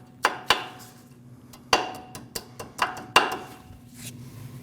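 A tool taps a cotter pin to bend it over on the front lower ball joint of a 2014–2023 Jeep Cherokee. About seven sharp metallic taps come close up at irregular intervals, with quiet gaps between them.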